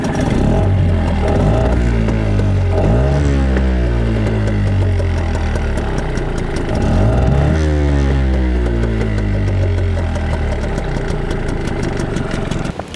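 A Tohatsu 5 outboard boat motor running on 95 petrol, its steady mid-pitched engine drone loud and close throughout, with a couple of rising and falling revs and no talking.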